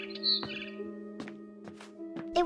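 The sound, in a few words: barn swallow chirping outside window in video game Edith Finch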